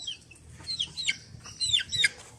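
Young backyard chickens in a coop of mixed breeds, including Ameraucana and Australorp, cluck and chirp in a run of short calls, close by and steady over a low rumble of background noise.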